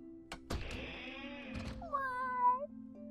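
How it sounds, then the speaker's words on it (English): A young marked panther cub gives one drawn-out, oddly human-sounding meow, heard clearly after a few thumps and a short stretch of background noise. "Is that the distinctive human-like meow of a baby marked panther?"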